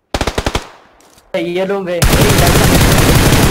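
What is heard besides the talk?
gunfire in the video game PUBG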